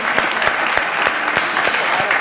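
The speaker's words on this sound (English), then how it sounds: "That stands for a round of applause" Audience applause at an MLK Unity Breakfast, a steady wash of clapping from a crowd that holds for the whole stretch, with a voice talking faintly underneath.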